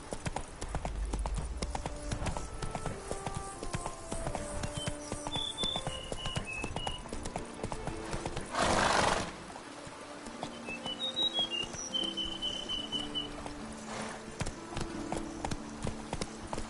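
Horse hooves clip-clop steadily at a gallop through The Witcher 3: Blood and Wine, with birds chirping in the background and a brief louder burst midway; no neigh is clearly evident.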